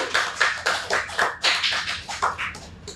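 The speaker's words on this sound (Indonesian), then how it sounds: "Tepuk tangan." An audience applauds Indonesian five-time Olympian weightlifter Eko Yuli Iriawan, with a few close, separate bursts of clapping across a couple of seconds rather than a dense roar.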